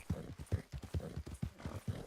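Horse hooves clip-clopping in a video game, a quick steady run of hoofbeats with a faint neigh, close and clear and with no talk.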